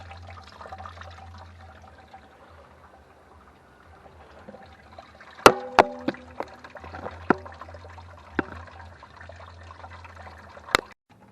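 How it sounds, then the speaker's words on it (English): Antifreeze drains in a steady, soft trickle during a coolant change, with a low hum underneath and a few sharp clicks and knocks partway through. "Now on to changing the antifreeze."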